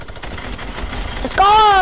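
Gunfire in the video game Fortnite crackles as a rapid run of shots, loud and close, ending in a bright ringing, wavering game tone.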